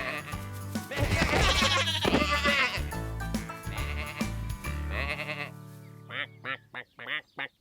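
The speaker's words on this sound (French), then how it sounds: "personne ne remarque que les moutons s'approchent des bottes de paille" Cartoon sheep bleat near straw bales on a farm in an animated children's tractor show, a run of five short bleats standing alone at the end after a stretch of busy music and sound.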